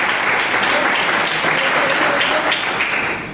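An audience at a business plan presentation bursts into loud, dense applause, a continuous roar of many hands clapping close and full for several seconds before tapering slightly at the end.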